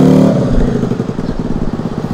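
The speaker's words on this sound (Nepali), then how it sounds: "ल स्टार्ट गरेँ ल उसको चाहिँ पुरै त्यो साइलेन्सर हालेको छ साउन्ड हेर्न कत्रो" A scooter fitted with a full silencer starts up outdoors in a village area of Nago, Okinawa, a loud close burst that settles into a steady throbbing, sputtering engine rhythm with no talk.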